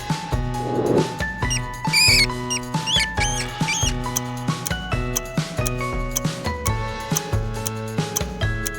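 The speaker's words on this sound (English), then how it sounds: "Rat. Perfect." A rat squeaks in short, high, chirping bursts, clearest around the middle, set over a steady rhythmic music backing that keeps ticking beneath it throughout.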